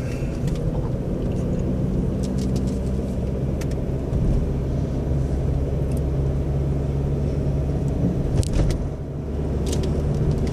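Vehicles passing on a street, heard from inside a moving car as a steady, loud low rumble of engine and road noise with brief swells as traffic goes by.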